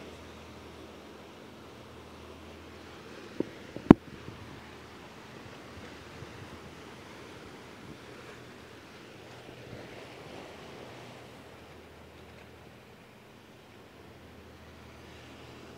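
Ocean swells break on a reef off Guam, heard as a continuous rushing wash of surf mixed with buffeting wind noise on the microphone, with a couple of brief knocks early on.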